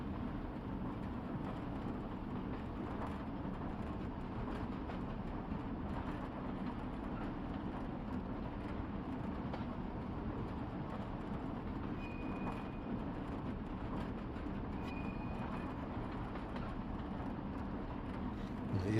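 The Flying Scotsman steam locomotive runs in the Train Simulator Classic game on the Corris Railway. It gives a steady, moderately loud rolling rumble of wheels and rails, with a couple of faint whistle-like tones and no talk.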